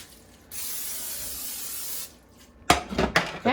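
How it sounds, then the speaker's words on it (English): Pam cooking spray hisses into a pan in one steady burst of about a second and a half, followed by the clatter of the pan and utensils being handled nearby. "First, you need to go ahead and spray your pan with Pam."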